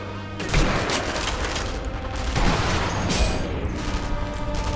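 Gunfire in the sniper shooter Sniper Elite V2, a loud, sustained burst of shots and impacts layered into a continuous rattling din that peaks twice.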